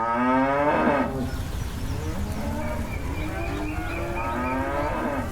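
Cattle on a farm lowing in long, loud moos, one deep bellow at the start followed by several overlapping calls from other cows, close and steady with no talking.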